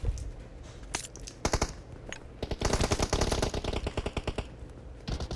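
Rapid automatic gunfire from PUBG Mobile, loud and close, coming in several sharp bursts of repeated shots with brief pauses between them.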